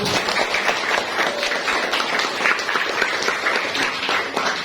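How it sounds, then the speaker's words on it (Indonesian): A classroom of schoolchildren applauds a pupil named Piano after a song; loud, dense, continuous clapping from many small hands, close and even throughout. "Tepuk tangan untuk Piano."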